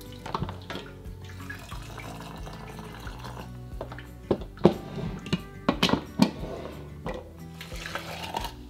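Water running from a kitchen tap into canning jars, with a soft continuous splash broken by several clinks and knocks of glass, close and fairly quiet.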